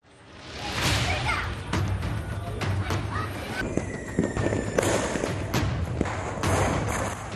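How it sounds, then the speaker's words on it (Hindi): Diwali night fireworks and firecrackers going off in dense, overlapping bursts with sharp cracks and thuds over a steady roaring din, loud and continuous throughout. "दिवाली की रात रोशनी से जगमग थी, लेकिन आतिशबाजी का ऐसा शोर उठा कि पूरी फिजा धुंध में भर गई"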